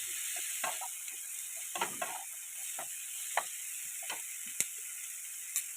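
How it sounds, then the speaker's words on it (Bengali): Capsicum, onion and peas stir-fry in a pan with a soft, steady sizzling hiss and scattered light clicks and scrapes from stirring, fairly faint. "ভেজিটেবলগুলোকে সবটাই দিয়ে দেওয়া হলো এবং আমরা একে নেড়ে নেব।"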